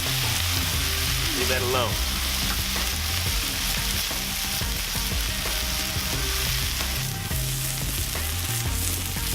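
Cheeseburger patties sear on a Lodge 14-inch cast iron griddle with a loud, steady sizzle and crackle that runs the whole time, with some scraping and a brief spoken remark over it.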